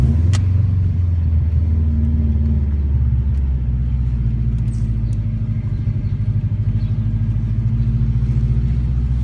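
A 2005 Subaru Impreza WRX STi engine drones steadily while driving, a loud, close, low rumble that holds even throughout with a few faint ticks above it.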